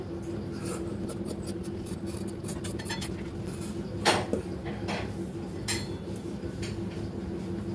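Scissors cutting blouse fabric for a deep-neck blouse, a run of soft snips and rustles up close at a faint level, with one louder crisp cut partway through.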